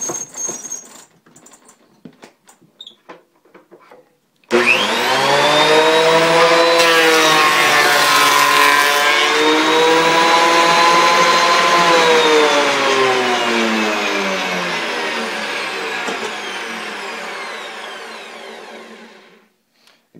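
A wood planer with freshly sharpened blades planes a board in a woodshop. After a few seconds of quiet handling, a loud, steady motor whine starts, dips in pitch as the cut loads it, and fades at the end, with no talk.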